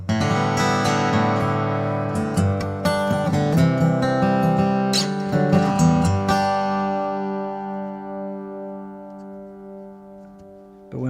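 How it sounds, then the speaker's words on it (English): Cole Clark acoustic guitar played through its pickup with the microphone turned down, heard alone and close: strummed chords and picked notes that ring out into a long decaying chord. "but I turn the microphone one down."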